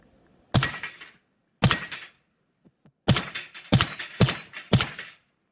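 A 9mm Glock-magazine pistol caliber carbine with a Mech Tech upper fires at steel plates, six sharp shots close by with decaying tails, two spaced apart and then four in quick succession, without speech.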